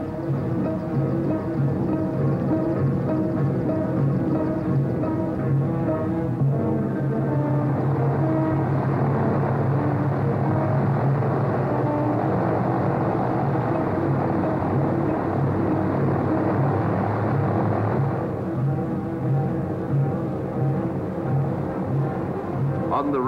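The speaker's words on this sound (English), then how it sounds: "the big plane is set to move" Boeing Stratocruiser airliner's piston engines idling on the ground, a steady loud rumbling drone with a low throb that holds for the whole stretch, slightly shifting in tone near the end.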